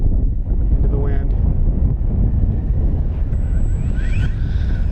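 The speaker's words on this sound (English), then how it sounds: "It's very windy." Strong wind buffets a microphone outdoors at a radio-controlled FMS FOX 3000mm glider's maiden flight, a loud, constant low roar and rumble that dominates throughout, with faint whines from the aircraft passing above it.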